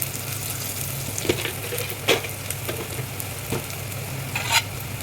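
Onions fry with a constant sizzle as ginger garlic paste and salt are stirred in, a spoon scraping and tapping against the pan a few times at a close, unhurried pace without any talking.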